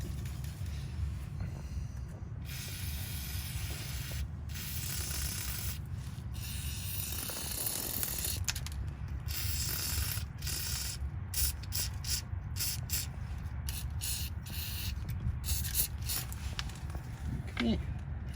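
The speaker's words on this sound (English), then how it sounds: "You can hear the rust coming off though." Rust is scrubbed off a Mustang GT resonator after a WD-40 spray, a steady rhythmic rasping and scraping of repeated strokes over a low rumbling background, with muffled voices now and then.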